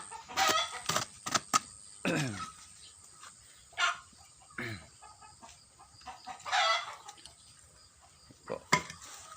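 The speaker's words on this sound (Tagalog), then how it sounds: "ingay po yung mga manok" Chickens cluck and a rooster crows repeatedly at a rural mountain home, the calls coming in bursts of varying loudness, some close and some farther off, with a dog barking briefly in the background.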